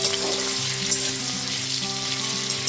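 Small diced potato pieces frying in hot oil and ghee, a steady bright sizzle with some faint stirring and soft crackles, close and even throughout.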